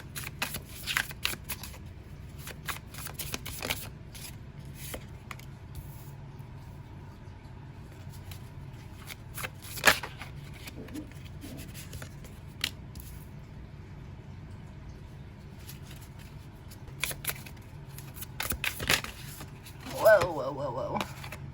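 Tarot cards shuffled by hand in repeated quick riffles and flicks, close and crisp, separated by quiet pauses, with a low background engine hum and no talking.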